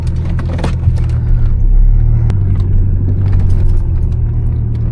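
A loud Chevrolet Corvette cruises on a highway at night, a deep steady engine and exhaust rumble with road roar, heard from inside the car, with a brief swell in the middle and no talk.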